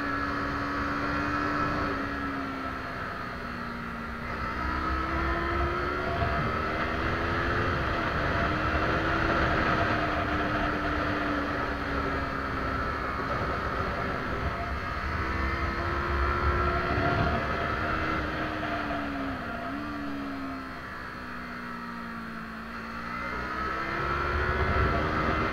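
Yamaha YZF-R3 motorcycle lapping a race track, its engine droning steadily and close throughout, pitch dipping and rising as the rider rolls off and reapplies the throttle through corners, with wind noise underneath.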